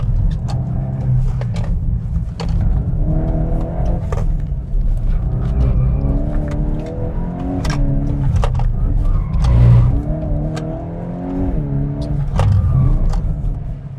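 Engine of a VW Golf R MK 8.5 revving on a track, a steady, close, droning engine note that rises and falls through the gears without a break, heard from inside the car.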